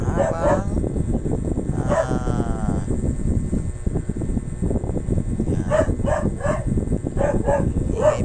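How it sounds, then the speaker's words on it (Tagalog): A dog barks several times at Luneta park in Manila, heard over constant crowd noise and nearby talk. "ingay po ng aso"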